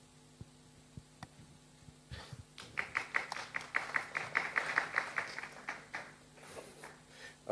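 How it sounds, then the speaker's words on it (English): Applause from a conference audience at a climate discussion event, starting after a few faint isolated taps and swelling into a rhythmic round of clapping that stays moderately distant in a large room. "Yeah, applause."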